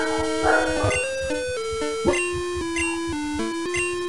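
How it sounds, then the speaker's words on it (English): A dog named Leo barks and yips in short bursts, with several sharp, close calls and whimpers between them, over a bouncy chiptune melody from Pokemon Crystal. "Leo, don't you dare start barking again"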